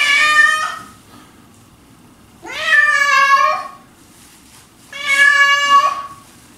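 A cat meows during a bath: three loud, close, drawn-out cries separated by quiet pauses of about a second and a half.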